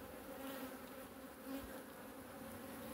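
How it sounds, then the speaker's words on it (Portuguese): A bee buzzes steadily close by at a honey nest being harvested by hand, a continuous near insect drone with a slight swell midway and no talk. "lá vem uma abelha na mão"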